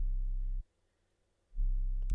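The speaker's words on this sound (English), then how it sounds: "Just a pure, unadulterated sine wave." A synthesized pure sine wave sub bass plays in two low, smooth sustained notes separated by a short silence, ending with a brief click.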